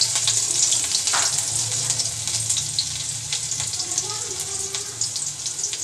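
Cumin seeds and green chillies fry in hot oil in a kadai, giving a steady, close crackling sizzle with scattered sharper spits and pops and a low background hum.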